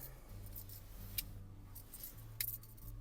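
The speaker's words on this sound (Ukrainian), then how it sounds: "З автомобілем два ключі показую." Volkswagen Golf 5 car keys jangle faintly in two brief clinks over a low, steady hum.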